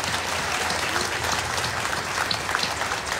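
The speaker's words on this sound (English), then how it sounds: "Let's give them a round of applause." An audience at a consulate office opening applauds the Consul General of Japan, a dense, steady patter of many hands clapping from a crowd close by.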